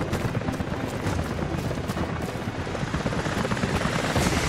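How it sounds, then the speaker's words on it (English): Loud, continuous rotor roar of helicopters approaching in the video game Rise of the Tomb Raider, filling the scene, with bursts of gunfire and explosions mixed in. "helicopters are headed your way"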